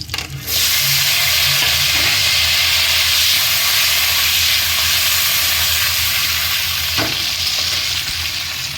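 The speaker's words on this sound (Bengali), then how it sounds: "আর এবার কড়াইতে তেল আছে এতেই আমি আলুটা দিয়ে দেবো" Potatoes drop into hot oil in a kadai, bursting into a sudden loud hiss that settles into a continuous close sizzle, with a faint clink of a utensil partway through.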